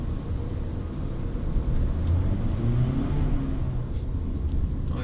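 A Lexus NX 300h hybrid accelerates in sport mode, heard from inside the cabin as a low, steady rumble of engine and road noise that swells slightly mid-way, with no talk.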